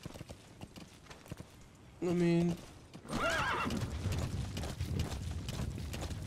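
A horse in Metal Gear Solid V: The Phantom Pain whinnies once, loud and close, then hooves clip-clop in a quick galloping rhythm, with someone talking briefly before the neigh.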